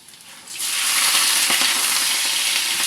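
Shrimp hit a hot pan and burst into a loud, steady sizzle that holds for the rest of the moment, with a few faint clatters underneath.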